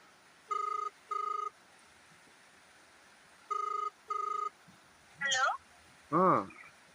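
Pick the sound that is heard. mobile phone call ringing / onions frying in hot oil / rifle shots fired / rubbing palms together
mobile phone call ringing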